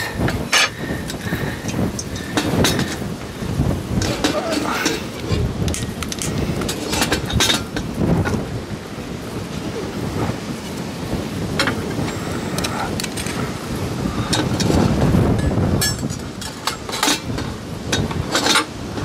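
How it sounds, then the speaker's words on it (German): Strong wind roars and buffets continuously around a Trangia camping stove setup, with scattered clatters and knocks over the rushing noise. "seht ihr, wie windig das ist?"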